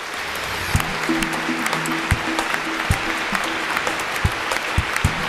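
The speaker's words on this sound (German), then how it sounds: "Und erstmal einen kräftigen Applaus." Hearty audience applause at a German competition award ceremony, steady and sustained at moderate loudness, with a few sharp louder claps standing out near the microphone and a faint tonal hum underneath.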